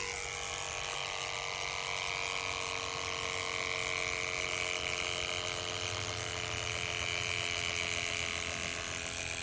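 An electric water pump on a portable reverse osmosis window cleaning system runs steadily with a loud, constant whirring drone that holds at an even level throughout.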